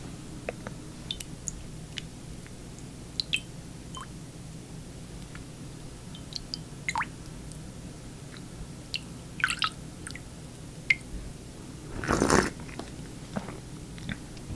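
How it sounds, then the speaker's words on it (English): A close ASMR recording of someone slurping a drink: quiet mouth clicks and small wet sips scattered through near silence, then one longer, louder slurp near the end. "It's not very ladylike to slurp like that"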